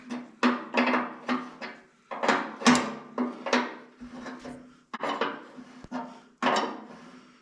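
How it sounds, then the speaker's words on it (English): Metal clanks and scraping knocks from loosening a nut on an Allis Chalmers B tractor, a series of sharp close taps and grinding bursts in irregular rhythm, with no talk. "all I gotta do is loosen this nut up here a little bit"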